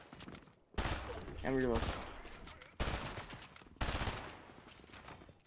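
Bursts of automatic gunfire in the video game Fortnite, several loud sprays separated by short pauses, with a player speaking Norwegian over them.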